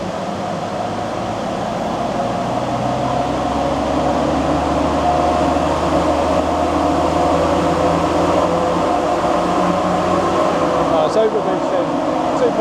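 A Land Rover Td5 diesel engine with a VNT turbo upgrade, overboosting on a dyno, runs at a steady, loud drone with a constant hum and a faint whine, continuous throughout with no break.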